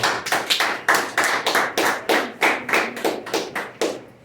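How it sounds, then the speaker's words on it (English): Slow, distinct rhythmic clapping from a small group at a cafe podcast event, each clap sharp and close, roughly three per second in a steady beat. "give a big round of applause"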